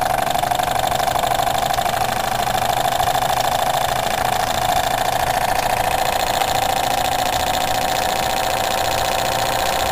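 A Jensen 25 model steam engine runs steadily, its boiler building pressure, giving a continuous mechanical hum with a faint knocking vibration that holds evenly throughout, close and fairly loud with no voices.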